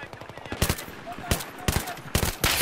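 Automatic gunfire from a high-recoil rifle in the video game Battlefield 3 comes as four loud, sharp bursts spread over a couple of seconds, with faint voices and game ambience in between.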